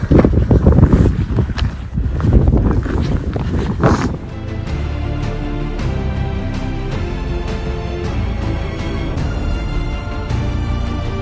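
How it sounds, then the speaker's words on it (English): Cold wind gusting over an open arctic fell in Lapland, near Kilpisjärvi, Finland, buffeting the microphone in loud, rough bursts for the first few seconds, then settling into a steadier, softer rush. "the wind is quite a bit colder up here"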